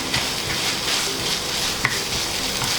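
Ground meat and chopped onion frying in a hot pan with no added oil, a steady close sizzle with occasional light stirring clicks.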